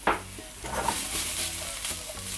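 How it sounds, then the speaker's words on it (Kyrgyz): Chicken shashlik meat sizzles and fries in a pan while being stirred at home, with steady close crackling and scraping stir strokes throughout. "Бир аз кууруп алышыбыз керек."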